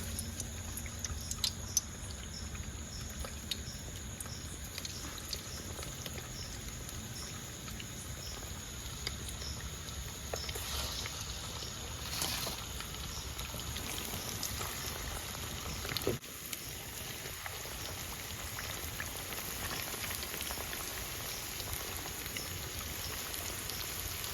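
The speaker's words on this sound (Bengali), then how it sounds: "তেলটা গরম হয়ে গেছে এবার কোপ্তাগুলো ভেজে নেবো" Chicken kofta balls frying in hot white oil, a steady dense sizzle and crackle that runs continuously at a moderate level with a few louder pops, no voices.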